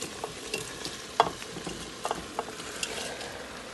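Shrimp are added to a pan and stirred, with a soft continuous frying sizzle under scattered sharp clinks and scrapes of a utensil against the pan, close and fairly quiet.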